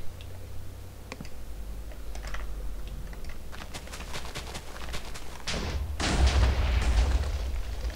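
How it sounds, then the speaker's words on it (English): Fireworks burst in a video game as a series of soft pops and crackles that build toward a denser, louder volley near the end. "Fireworks."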